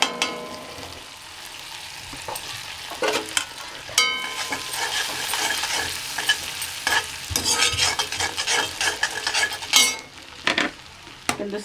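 Mustard seeds, fennel, fenugreek leaves and curry leaves crackle and sizzle in hot oil in a kadai, with busy stirring and the clink of a spoon against the pan over the frying.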